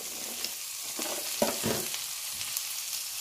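Finely chopped cabbage hits hot oil with curry leaves in a pan, giving a steady close sizzle with a few brief louder crackles and stirring bursts, and no voices.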